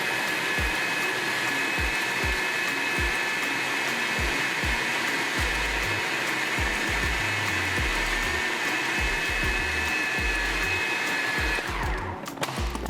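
A blender whirs steadily on high while chopping green seasoning herbs, a loud, constant motor whine with rhythmic low thumps from the churning contents, cutting off abruptly near the end.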